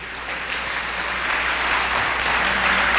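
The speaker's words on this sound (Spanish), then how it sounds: "Eso merece un aplauso para el Señor Jesús." Steady applause from a church congregation, a dense wash of clapping that holds at an even level and swells slightly toward the end.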